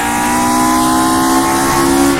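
A race car engine in the rFactor 2 road racing video game drones loud and steady, a constant high whine with no speech over it.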